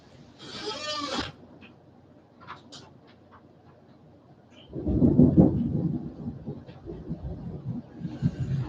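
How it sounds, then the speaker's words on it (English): A night thunderstorm with rain: a rolling rumble of thunder builds and lingers over steady rainfall, with a brief hiss and a few faint scattered sounds before it, heard alone without talk. "looks like this rain and thunderstorms"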